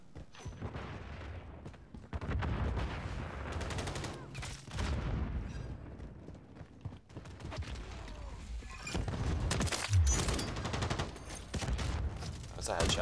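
Rapid bursts of automatic gunfire from the Modern Warfare 3 video game, loud and dense across the clip with short pauses and impacts, while a player talks over the shooting.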